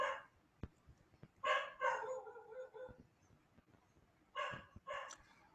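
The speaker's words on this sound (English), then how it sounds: "Barking of dog disturbing her?" A dog barks several times in short bursts, with gaps between, fairly close and moderately loud against a quiet background.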